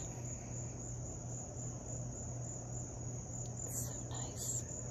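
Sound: crickets chirping

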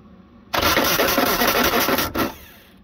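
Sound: Suzuki Samurai starter cranking the engine

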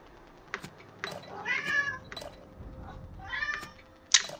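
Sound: cat meowing

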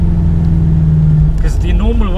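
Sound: BMW F10 M5 Competition car accelerating

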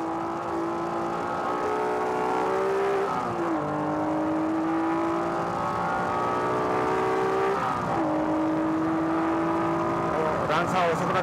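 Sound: race cars incl. Honda Civic Type R passing on the straight

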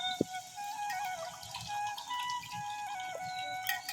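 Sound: water draining out through a pipe

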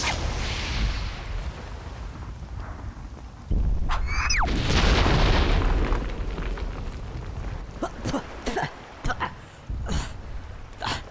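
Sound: missile explosion in Conker: Live and Reloaded video game

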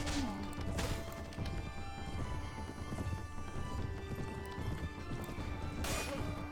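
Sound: horse hooves and combat in Mount & Blade Warband video game

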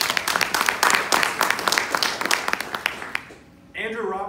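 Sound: audience applause at a talk

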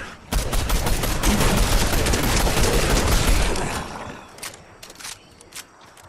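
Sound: gunfire in a video game

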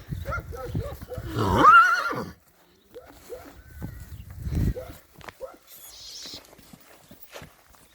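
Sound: stallion horse neighing

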